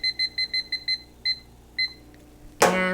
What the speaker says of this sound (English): I'm going to set a timer for 15 minutes.